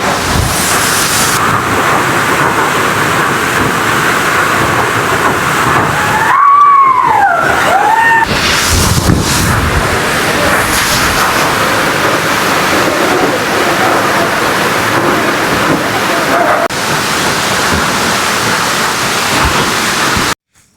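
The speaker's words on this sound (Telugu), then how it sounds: "కందులపాలెం వాటర్ ఫాల్స్ అండి" Kandulapalem waterfall near Paderu roars as a loud, continuous broadband rush of falling water, steady throughout with a brief whistle-like tone partway through.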